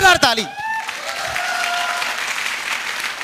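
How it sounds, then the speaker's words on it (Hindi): Loud applause fills a business event hall, starting with a burst of voices and continuing as steady, dense clapping from a large crowd for about three seconds. "इनके लिए जोरदार ताली"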